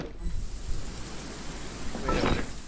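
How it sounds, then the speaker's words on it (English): Soft, steady rain falls in the fantasy world of Genshin Impact, a faint hiss with a low rumble underneath and a slightly louder swell near the end. "The rain won't slow me down."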